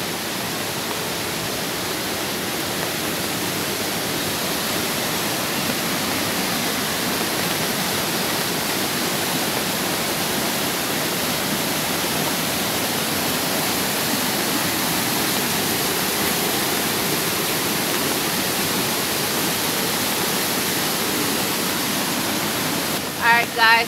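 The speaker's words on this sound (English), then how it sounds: "so we made it to the waterfall. It's really loud." A waterfall in the rainy Monteverde cloud forest of Costa Rica roars with a loud, unbroken wash of rushing water, close and steady for the whole stretch.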